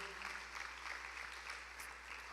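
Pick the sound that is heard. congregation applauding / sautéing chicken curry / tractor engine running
congregation applauding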